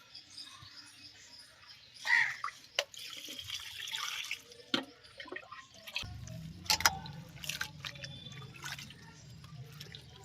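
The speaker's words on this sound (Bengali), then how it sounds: "গাজর এগুলো সব ভালো করে আমি ধুয়ে নেব" Water splashing and running in a sink as chopped spinach, eggplant, radish and carrots are washed, with intermittent drips, sloshes and clatters close by and a quieter stretch of trickling.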